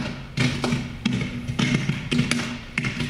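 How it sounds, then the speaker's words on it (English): Power lines spark in strong wind: irregular bursts of buzzing crackle with a low electrical hum, several loud pops and snaps spaced unevenly across a few seconds, no voices. "that's the sound of sparking wires as the wind left thousands of people in the dark"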